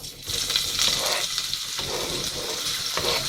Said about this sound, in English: So we're just going to add this onion.